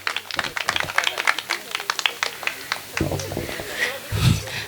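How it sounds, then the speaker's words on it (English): Scattered clapping from parents and children at a school talent event, with distinct individual claps in a loose rhythm at first, then fading as a voice starts talking near the end. "Can we have a huge round of applause"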